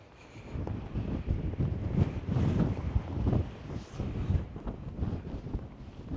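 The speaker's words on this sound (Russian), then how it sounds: "Я надеюсь, что в микрофон что-нибудь слышно, но то, что ветер очень сильный, ветрозащита одета" Strong wind buffets a windscreened microphone on a mountaintop above the clouds at Khustup, Armenia, in heavy, rumbling gusts that rise and fall throughout, with no voices.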